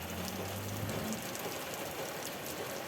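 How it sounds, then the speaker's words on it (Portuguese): Fairly heavy rain falls in Florianópolis after thunderstorms have passed. It makes a continuous, faint, even hiss with no distinct drops and no voices. "Temos chuva em Florianópolis nesse momento."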